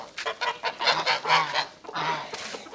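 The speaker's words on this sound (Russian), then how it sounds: "О, гуси меня встречают." Several geese honk loudly and repeatedly at close range, their calls overlapping in short bursts.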